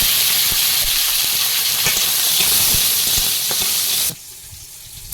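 Mango pieces dropped into hot oil with dried chilli, bay leaf and five-spice, a loud, close, steady sizzle and hiss that drops sharply to a quieter simmer near the end.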